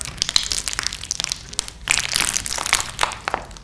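A huge, heavy batch of slime packed with metallic beads squished by hand, giving close, continuous crunching and crackling with squelchy bursts and a short pause midway.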